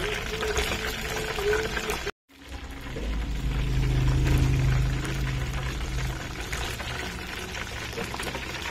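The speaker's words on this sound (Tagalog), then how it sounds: "paano siya naluluto dyan sa loob ng mantika" Chicken frying in oil in a new pan, a steady sizzling and bubbling hiss that drops out briefly near two seconds, then returns louder and continues to the end.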